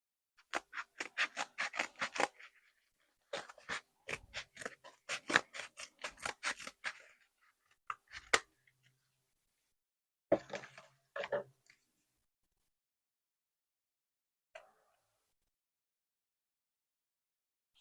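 Small scissors snip along the top of model railway scenery material, brisk bursts of rapid close cuts followed by a few isolated snips and long quiet gaps.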